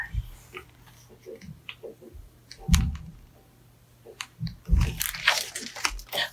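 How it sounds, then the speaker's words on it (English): Loud, sharp crunches come in a few separate bites against a quiet background, each a brief crackling burst. "Crunch, crunch, crunch."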